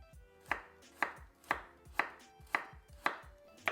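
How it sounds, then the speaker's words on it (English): Knife chopping green onions and ginger on a board, seven crisp evenly spaced strokes about half a second apart, close and clear with no talking. "I like to chop my green onions at an angle. Same goes with my ginger."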